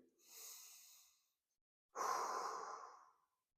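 Two slow breaths during a neck and upper-trapezius stretch: a long, soft inhale, a short pause, then a louder, breathy exhale, heard up close with no talking.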